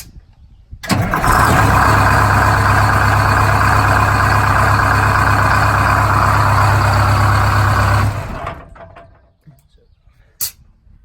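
A vintage bus engine cranks and catches, settling into a loud, steady, deep idle for several seconds before cutting off, with a brief knock afterward.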